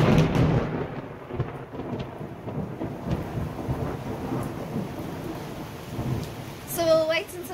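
A thunderstorm with steady rain pours over an outdoor container orchard, a dense rushing wash with low rumbling thunder throughout and a brief higher tonal sound near the end.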